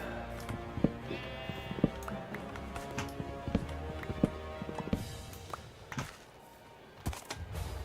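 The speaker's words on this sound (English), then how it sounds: "There's a sheep there." Minecraft sheep bleat several times over a busy background of tapping and clattering steps, with some faint speech in places.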